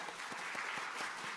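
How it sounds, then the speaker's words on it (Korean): Applause in a church as the congregation stands to encourage staff, teachers and young adults, a soft, distant patter of many hands clapping steadily. "우리 박수로 한번 격려하면 좋겠습니다."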